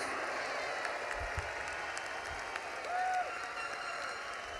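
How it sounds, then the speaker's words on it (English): A high school graduation crowd applauds the class of 2024, a broad sustained roar of clapping with a few low thumps and a short whistle-like tone partway through. "Class of 2024, give them one more round of applause."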